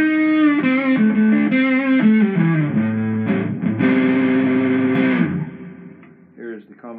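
A relic Tele-style electric guitar with Wilkinson Vintage Voice pickups plays distorted notes and chords through an effects unit, loud and close, ending with a few softer, sparser notes.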